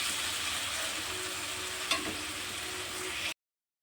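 Potatoes fry in a pan with a steady crackling sizzle, continuous and close, with a brief clink partway through before it cuts off.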